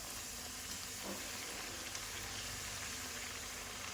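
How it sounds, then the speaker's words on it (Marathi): Spinach puris deep-fry in hot oil over a low flame, giving a steady soft sizzle and bubbling hiss with no talk over it. "कमी गॅसवर कडकड तेलात मस्त पुऱ्या तळून घ्या"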